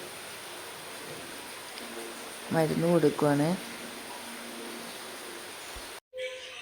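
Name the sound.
rain falling outdoors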